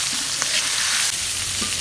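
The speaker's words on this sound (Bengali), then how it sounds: "এই যে পেঁয়াজ দিলাম, পেঁয়াজটাও ভাজা ভাজা হয়ে যাবে" Onion frying with pointed gourd and chilli in a pan, a dense, loud, steady sizzle close by with faint stirring clicks and scrapes, nobody speaking.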